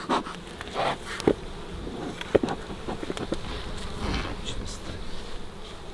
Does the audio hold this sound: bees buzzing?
yes